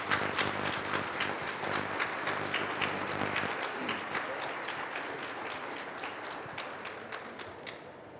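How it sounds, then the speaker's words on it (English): A conference breakfast audience applauds panel members with a steady, moderately distant wash of clapping that gradually thins toward the end. "let's give our panel members a round of applause for sharing their thoughts"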